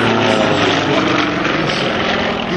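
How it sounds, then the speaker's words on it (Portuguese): A Sukhoi Su-31 aerobatic plane diving during an air show drones with a loud, steady propeller-engine roar that swells slightly as it passes overhead. "Parece que não tem limite para esse avião subir, né?"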